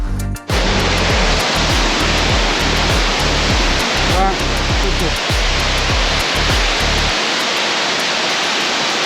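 Tunki Waterfall, a hidden falls in Similipal, Mayurbhanj, roars as a loud, constant broadband rush of falling water close by, with a few low thumps from handling and no clear talk, until the sound drops away near the end.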